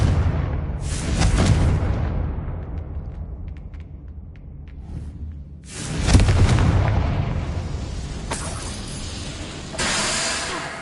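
Blasts from a Confringo fire spell in a Hogwarts wizarding game burst with booming, hissing explosions, three or four loud hits spaced several seconds apart with crackling debris between.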